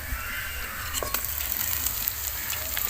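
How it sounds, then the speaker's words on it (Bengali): Onions frying in oil in a pan for a fish curry, a soft continuous sizzle with light crackling pops scattered through, moderately close and fairly quiet, no voices. "পেঁয়াজটা আমি ভালো করে একটু ভেজে নেব"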